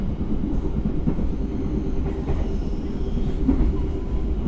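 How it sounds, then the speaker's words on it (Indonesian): The Serayu passenger train rolls by close and loud as it crosses the Serayu River bridge, a dense rumbling roar with faint metallic clatter from the wheels. "Jadi kereta api Serayu melintas jembatan Sungai Serayu."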